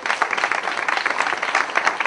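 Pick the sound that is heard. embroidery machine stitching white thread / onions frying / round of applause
round of applause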